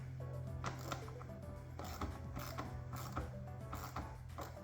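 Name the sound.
ratchet tightening hose clamp on Hyundai Kona air intake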